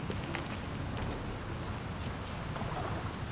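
A waterfall beside a cave in Assassin's Creed Valhalla gives a faint, continuous hiss of falling water, steady and even, with no voices.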